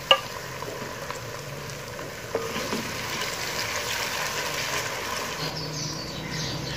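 Steady sizzling of tomatoes frying in a pan, a soft continuous hiss with a light clatter of stirring near the start.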